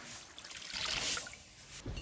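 Broth pours into a pot of fish curry, a soft splashing trickle swelling briefly in the middle of the short clip, close and with no voices.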